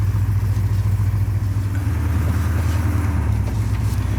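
A Porsche 928 V8 engine runs at a low, steady idle while the car reverses out, giving a deep continuous rumble with a slight pulsing beat, close and loud.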